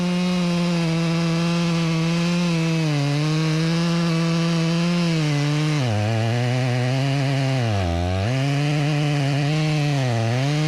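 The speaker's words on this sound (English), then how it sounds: "I'll start working my way to the back, boring out everything in the middle of this log" A chainsaw bore-cuts into the middle of a walnut log, its engine droning steady and loud throughout, dipping in pitch under load several times as the bar plunges deeper.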